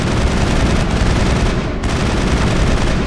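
Dense, continuous gunfire in the Mass Effect game, a loud, unbroken rattle of shots filling three seconds with only a brief dip partway through.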